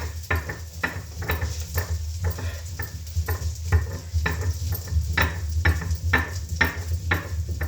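Chopped onion sizzles in a hot pan for chicken masala, with a steady fry hiss and regular scraping stirs of a spatula every half second or so, close and clear.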